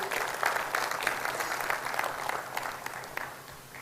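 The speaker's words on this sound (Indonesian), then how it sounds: "tepuk tangan saya lagi untuk Riwe" Audience applause at an Indonesian business leadership training seminar, a moderate, steady patter of many hands with scattered louder claps, tapering slightly toward the end.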